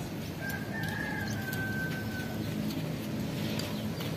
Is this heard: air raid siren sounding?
no